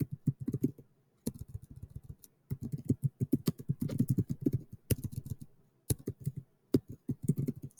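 Bursts of fast typing on a computer keyboard, close and clear, with rapid clattering key presses separated by short pauses and no talk.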